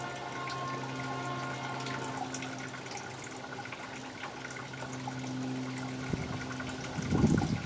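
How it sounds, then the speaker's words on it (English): Power steering fluid is poured into the reservoir of a 2005 Toyota Highlander with 174K miles, a quiet steady trickle over a low mechanical hum, ending in a short louder splash. "keep filling it back up till it's good and full."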